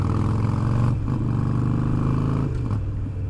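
Motorcycle engine droning steadily on the road with a rich low rumble and strong harmonics, loud and continuous with slight shifts in pitch as the ride goes on.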